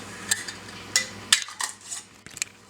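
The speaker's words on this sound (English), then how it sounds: "We'll be putting the screw lids on here." Several sharp metallic clinks and light scraping taps, close by, as metal screw lids are set and turned on glass jars of kiwi jam, spaced irregularly.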